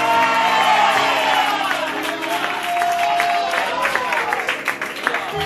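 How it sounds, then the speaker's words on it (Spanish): A church congregation claps and cheers to praise the Lord during a Spanish-language service and book presentation, a loud sustained crowd sound with whoops and voices mixed in under music. "iglesia, y aplauda al Señor si lo cree"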